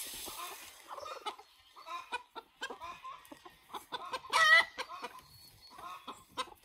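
Hens cluck and squawk close by inside a backyard coop where eggs are being collected, with short bursty calls recurring through the clip and a sharper, louder squawk near the end.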